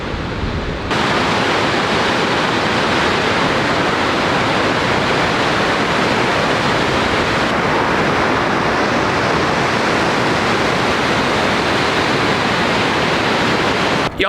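Kepler Cascade waterfall in Yellowstone National Park roars as a loud, steady, dense rush of falling water, with no pauses from start to finish.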